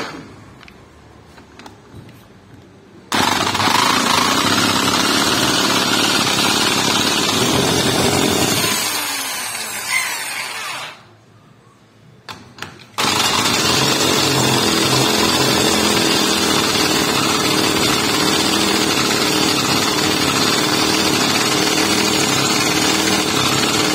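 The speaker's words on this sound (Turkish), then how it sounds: "matkapla çalıştırıyoruz" A small 50cc two-stroke saw engine, started with a power drill, revs loudly and continuously, dropping off briefly into a quieter whir before roaring back up to full buzzing speed.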